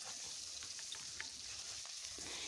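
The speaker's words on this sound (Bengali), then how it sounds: "কড়াইতে সর্ষের তেল দিয়েছি। ডিমগুলো হালকা করে একটু ভেজে নেব।" Desi chicken eggs fry lightly in mustard oil in a wok with a quiet, steady sizzle and faint crackles. The sound stays soft and continuous, with no voices.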